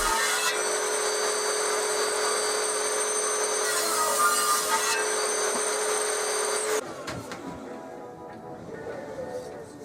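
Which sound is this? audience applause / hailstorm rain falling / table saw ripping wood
table saw ripping wood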